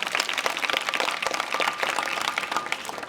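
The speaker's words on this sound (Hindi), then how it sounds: "इसके लिए जोरदार ताली बजाओ।" Students in an intermediate college hall clap vigorously together, a loud, continuous burst of many hands sounding close and busy for the full few seconds, with no speech.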